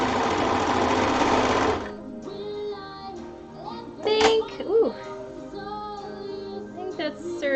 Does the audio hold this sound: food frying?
no